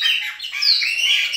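Loud, busy song of several caged blackbirds, overlapping chirps and whistles with many birds calling at once nearby.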